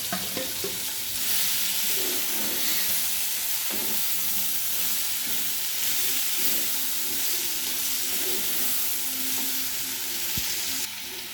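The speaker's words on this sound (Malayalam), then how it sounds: "ഇനി നമുക്കിതിലേക്ക് വാഴത്തട അരിഞ്ഞ് വെച്ചിരിക്കുന്നത് ഇട്ട് കൊടുക്കാം" Chopped banana stem drops into a hot pan for a dried fish curry, setting off a steady, close sizzle and hiss of frying with faint stirring scrapes throughout.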